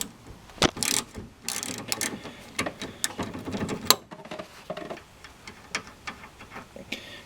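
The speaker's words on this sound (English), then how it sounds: "for this nut I'm going to use an 18mm socket and a 3/8 inch ratchet" A 3/8 inch ratchet with an 18mm socket works a nut on a front tie rod end, producing irregular close clicks and ratcheting ticks with brief pauses between bursts.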